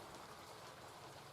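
Steady rain patters softly on surfaces at an allotment, a faint continuous hiss with no voices, lasting just over a second.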